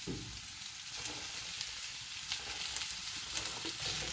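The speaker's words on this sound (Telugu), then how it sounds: "కొంచెం లో ఫ్లేమ్ మీదే వీటిని మగ్గనిద్దాము" Cauliflower florets sizzle gently in a pan over a low flame for a curry with red lentils, a steady soft frying hiss with faint occasional crackles and stirring, close by with no voices.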